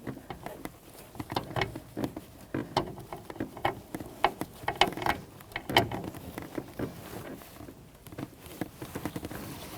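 A wrench works a nut on the brake master cylinder of a 2007-2017 Jeep Patriot, giving a close series of irregular metallic clicks, ratcheting ticks and small clanks with no talking.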